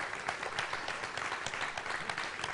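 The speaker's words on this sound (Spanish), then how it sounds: "Aplaudan, a ver si van a hacerlo" A church congregation applauds together, a steady dense wash of clapping that fills the room at moderate loudness without a break, with no voices standing out above it.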